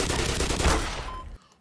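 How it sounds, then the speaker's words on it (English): Shotgun fire in the video game Black Mesa, a burst of loud, close blasts that cut off abruptly into near silence. "it's a shotgun dude"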